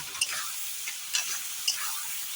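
Spice paste is stir-fried in a pan over low gas, with a soft sizzle and three light scraping strokes of a spoon, close by and fairly quiet.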